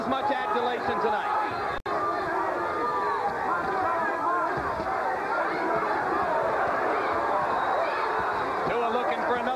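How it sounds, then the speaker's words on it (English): Large boxing arena crowd at a heavyweight fight between David Tua and Ike Ibeabuchi, a dense, continuous roar of voices and chanting that holds steady throughout with one brief dropout. "Crowd chanting Tua, Tua, Tua."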